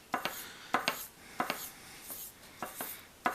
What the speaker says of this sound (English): That's all you're doing, is just lightly buffing it.